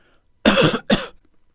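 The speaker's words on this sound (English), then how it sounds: "remove this cough from the recording" Two sharp, close coughs in quick succession, the first longer, then quiet.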